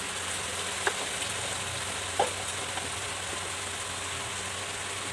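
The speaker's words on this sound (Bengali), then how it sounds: "এবার একটু জল দেবো, দিয়ে মশলাটা ভালো করে কষিয়ে নেব।" Spice paste with Kashmiri chilli powder frying in a pan, a steady close hiss of sizzling with a couple of faint pops and stirring taps, no voices.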